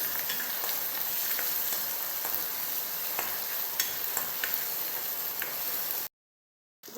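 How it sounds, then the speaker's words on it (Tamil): Curry leaves and chopped onions sauté in hot oil in a pan for a pumpkin gravy, giving a steady, close, dense sizzle with a few light stirring clicks, then cutting to silence near the end. "இப்போ வெட்டி வச்ச கருவேப்பிலை, வெங்காயம் எல்லாத்தையும் சேர்த்துக்கொள்ளலாம். இப்படி நல்லா வதங்க விடுங்க"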